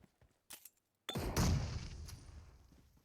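A grenade blast in a multiplayer video game bursts loud and close after a few sharp shots and clicks, then its rumbling roar fades over a couple of seconds.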